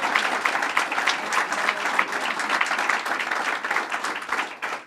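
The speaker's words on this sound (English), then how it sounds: "one more round of applause for the borough president" An audience at a government announcement event claps in sustained, dense applause for a borough president, steady throughout and tapering slightly at the end.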